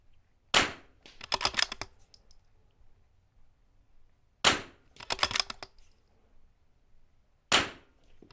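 Three precision .22 rifle shots fired at targets in an NRL22 course of fire, each a sharp crack followed by a brief rattle of clicks, spaced several seconds apart with quiet between.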